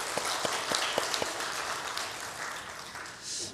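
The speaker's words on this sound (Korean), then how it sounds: "서로 박수하겠습니다." An audience claps together at a gathering, several sharp separate claps at first giving way to a steady wash of applause, with faint voices underneath.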